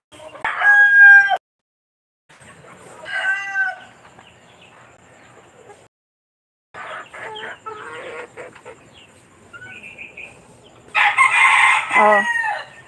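A rooster kept as a giveaway chicken crows loudly and close several times, with long throaty calls separated by pauses and softer clucking between them.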